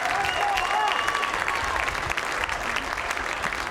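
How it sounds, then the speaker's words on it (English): Fans at a high school state baseball championship in Class 1A applaud the second-place Marissa Meteors, a broad crowd clapping steadily with some voices and cheers underneath. "Fans are all applauding for the second place finishers."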